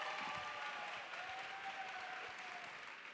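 Audience applause at a drag queen gala in Torremolinos, a steady wash of clapping heard from a distance, fading slightly toward the end.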